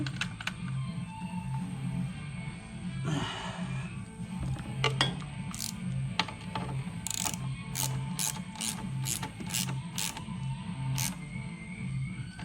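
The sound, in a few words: ratchet screwing in a golf cart controller bolt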